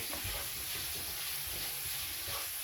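Meat frying in a pan, a steady close sizzle with soft stirring scrapes and no talking.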